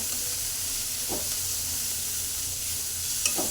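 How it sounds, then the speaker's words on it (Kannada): Dill leaves fry in a little oil with onion, garlic and tomato, giving a steady close sizzle and hiss with a few soft stirring scrapes. "ಸೊಪ್ಪು ಹಾಕಿ ಸ್ವಲ್ಪ ಎಣ್ಣೆಯಲ್ಲಿ ಫ್ರೈ ಮಾಡ್ಕೊತಾ ಇದ್ದೀನಿ"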